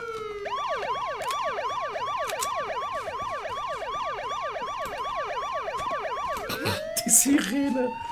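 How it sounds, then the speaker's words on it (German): A warbling emergency siren in the video game H1Z1 wails in rapid, regular up-and-down sweeps for several seconds, then breaks off as other game noise takes over; it sounds moderately close, with no talking over it. "Die Sirene merkt man gar nicht."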